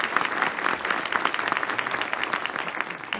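A theatre audience at a theatre festival performance in Merzifon, Turkey, claps steadily and densely throughout, a continuous close wash of applause.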